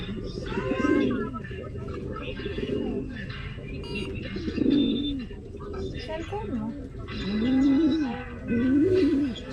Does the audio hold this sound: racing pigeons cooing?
yes